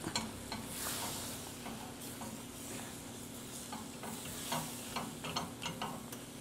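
A spoon stirs apples through thick caramel sauce in a pan over low heat, the soft sizzle and hiss running steadily underneath repeated scraping and clicking strokes, close and fairly quiet.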